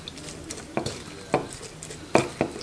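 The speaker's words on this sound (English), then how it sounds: "And finally I'm gonna stir everything up" A spoon stirs red cabbage salad dressed with olive oil in a bowl, giving a few irregular scraping clinks against the bowl over a soft wet rustle, close and alone.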